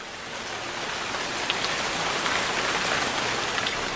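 Light drizzle falling steadily outdoors at night in a city park, a continuous soft hiss of fine rain with occasional faint drop ticks, no voices.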